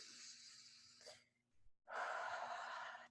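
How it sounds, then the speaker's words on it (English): A person takes a deep breath as part of an anxiety tapping exercise: a long, close inhale, a brief pause, then a fuller, airy exhale, all soft and intimate. "Deep breath."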